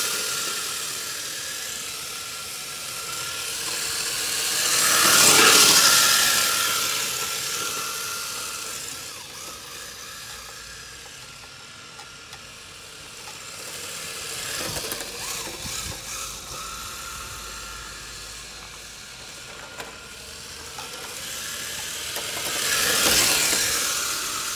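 A Traxxas 4Tec 2.0 RC car drifts on plastic tires, its electric motor whining and hissing in three swelling passes that rise and fade as it slides nearby, with no talking.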